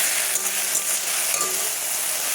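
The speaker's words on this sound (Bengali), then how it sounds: "ডিম আর ম্যাগি সমেত একটু ভেজে নেব" Maggi noodles and egg fry in a pan with a loud, steady hiss of sizzling oil that runs unbroken the whole time, with faint stirring under it and no voices.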